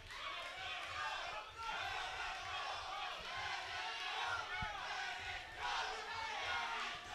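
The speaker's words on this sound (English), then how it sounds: "Lots of cheering coming from Jose Rodriguez's team and fans." Fans and a fighter's team cheer and shout at a boxing title fight, a busy crowd roar rising and falling in waves, with voices mixed in.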